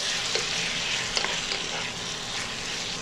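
Onion and tomato sizzle steadily in a hot pan while a utensil stirs them, giving a continuous frying hiss with a few soft scrapes and clinks, moderately loud and close with no talking.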